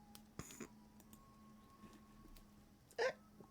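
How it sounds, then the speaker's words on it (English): A single sharp hiccup pops out near the end, loud and sudden against a quiet room with faint background game sounds. "I got the hiccups."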